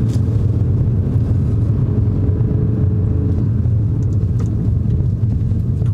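A learner car pulls away and accelerates during a driving lesson, heard from inside as a loud, steady low engine rumble with road noise and no talking.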